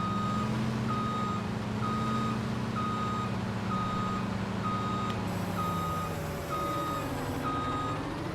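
Steady reversing beeps from a JCB front loader in a farming video game, evenly spaced tones repeating alone over a constant low engine drone, shifting slightly as the machine moves.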